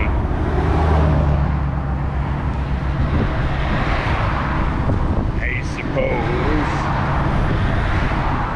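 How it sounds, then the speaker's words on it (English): Steady road traffic on the US1 highway in the Florida Keys near Cudjoe Key, heard from the roadside while biking, with a continuous broadband rush of passing vehicles and wind noise throughout. "it looks like there's plenty of traffic today"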